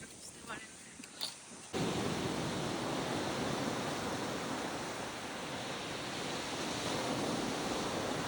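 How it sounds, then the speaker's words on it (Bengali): Waves wash onto a deserted beach in South Goa as a steady, close, broadband roar that starts abruptly after a brief quieter opening and then continues unbroken. "ভীষণ নির্জন একটা বিচ, মানে একটাও জনমানুষ দেখা যাচ্ছে না, এতটাই ফাঁকা।"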